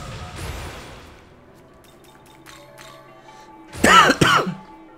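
A person clears their throat and coughs twice in close, harsh bursts near the end, after quiet game sounds with faint tones and soft taps.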